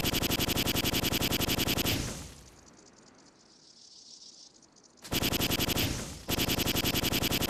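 Rapid automatic weapon fire from a 300 DPS gun in a video game, loud and continuous, broken by a roughly three-second pause before bursting again, with a short gap near the end.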